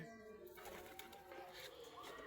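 A pigeon gives soft, low coos, faint and close, over a quiet background.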